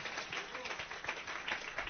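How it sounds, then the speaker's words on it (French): A church audience applauds during a sermon, a brief patter of clapping and cheering, somewhat distant and faint, with voices mixed in. "Donnez une acclamation à ça."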